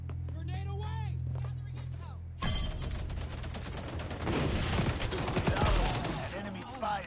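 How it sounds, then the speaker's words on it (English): Gunfire and an explosion in the shooter game xDefiant, a sudden loud burst followed by dense rapid shots and crashing, with voices talking at the start and underneath. "Grenade away!"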